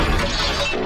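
A scrappy little house collapses in a cartoon fairy tale, a dense one-second crash of breaking and shattering debris, loud and continuous with no voices.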